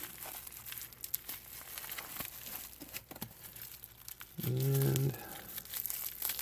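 Packaging around a Seiko watch is cut open and unwrapped, with close, continuous crinkling and tearing of wrapping, a brief louder tonal rip near the end, and a voice saying a single word.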